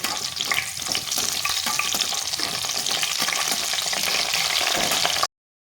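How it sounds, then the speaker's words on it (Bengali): Dry fruits fry in a pan with cardamom and bay leaves for jorda shemai, giving a loud, close, bubbling sizzle with brief stirring scrapes before it cuts off abruptly. "ড্রাই ফ্রুটসটা ভাজা হয়ে গেছে"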